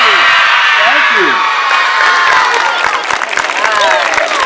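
A loud school assembly crowd cheering and whooping for veterans on Veterans Day, mostly children's high shouts mixed with clapping, sustained and close throughout the clip.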